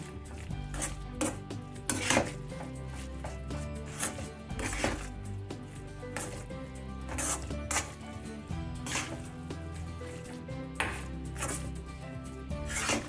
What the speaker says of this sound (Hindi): अच्छे से मिक्स कीजिएगा हलवे के साथ, तभी इसका फ्लेवर बहुत ही अच्छा आएगा।